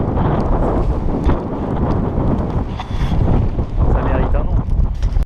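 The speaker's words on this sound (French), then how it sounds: "on ne doit pas m'entendre avec le vent qu'il y a" Heavy wind buffeting a microphone on a hike in New Zealand produces a continuous loud rumble and roar that stays strong throughout.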